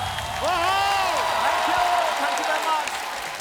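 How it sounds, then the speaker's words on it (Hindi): A studio audience at The Kapil Sharma Show applauds Himesh Reshammiya, a steady wash of clapping and whoops with a voice calling out over it throughout. "जोरदार तालियां मिस्टर हिमेश रेशमिया साहब के लिए।"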